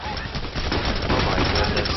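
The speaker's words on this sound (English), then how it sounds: "I'm not. I'm using a pistol." Dense, steady gunfire from the video game PAYDAY The Heist, where a player fires a pistol; a loud, continuous clatter of shots fills the whole stretch.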